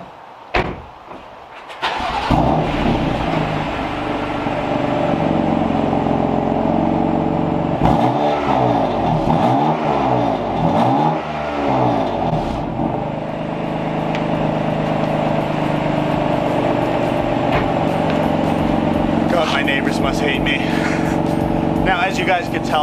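A BMW M4 engine with its exhaust flap closed starts and revs repeatedly, climbing and falling in pitch several times, loud and close, with a door sound near the start.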